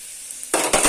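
Okra curry hits fresh oil in a pan with a sudden loud sizzle about halfway through, after near silence. A second burst of frying noise follows shortly after.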